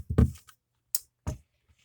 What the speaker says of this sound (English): This is what this sounds like whenever you bounce it on the table.